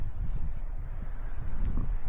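Wind gusts across an exposed hillside campsite in the snowy mountains, a steady low rumbling buffet against the microphone with slight surges, close and moderately loud, with no voices.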